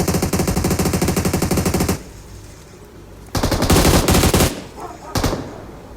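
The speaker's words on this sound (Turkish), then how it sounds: "Aha sağdan biri sıkıyor." Rapid automatic gunfire in PUBG Mobile comes in loud, sustained bursts: a long stream of shots, a short pause, then two more volleys, heard close and with no talk over it.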